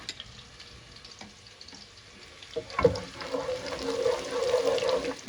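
Ginger garlic paste drops into onions frying in a pan, a sudden hiss rising into a steady, close sizzle after a quieter stretch of low cooking noise.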